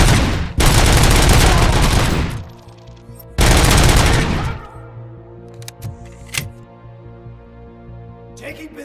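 Bursts of automatic gunfire from the video game Robocop: Rogue City, loud and close: one long volley, a pause, then a shorter second burst. Scattered mechanical clicks and faint ringing follow as the shooting stops.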